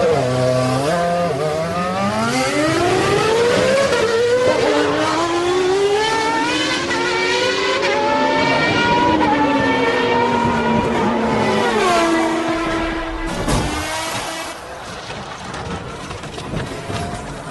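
Ayrton Senna's Formula 1 race car screams past at high revs, its pitch climbing through repeated upshifts and dropping on downshifts, loud and continuous with no voices over it.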